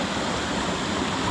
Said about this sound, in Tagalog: Parang may bukal dito